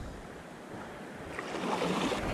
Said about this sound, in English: That's a boat coming through right here.